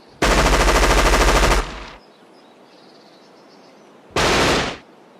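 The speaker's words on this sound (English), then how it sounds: "Each bullet goes for Edwin and Warren." A loud burst of automatic gunfire from GTA 5 machinima lasts over a second, then there is a short quiet pause and a second brief burst. The shots are close and rapid and there is no speech.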